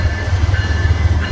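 A train rolls past close by, a loud steady rumble of wheels and cars with a faint high tone running over it, and no voices.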